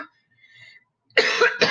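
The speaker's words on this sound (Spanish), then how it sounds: "perdón, por la tos" A speaker coughs abruptly in two harsh bursts close to the microphone after a near-silent pause.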